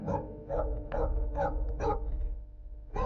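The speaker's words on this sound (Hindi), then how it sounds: "सडनली ये कुत्ते भौंक रहे हैं।" Dogs barking at night, a run of sharp repeated barks at moderate distance, spaced roughly every half second, fading toward the end.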